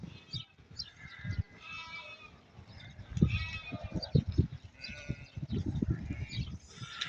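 A flock of about 500 sheep at a livestock market in Yevlakh, Azerbaijan, bleating over and over in overlapping calls of varied pitch, fairly near and moderately loud.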